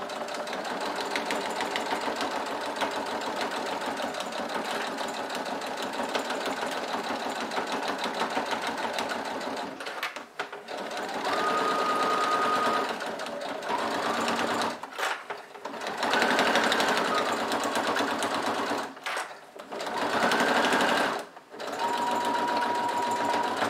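A sewing machine runs steadily while stitching a beginner's fabric pouch, with a long continuous whir broken by several short pauses and restarts near the end, loud and close with no voices.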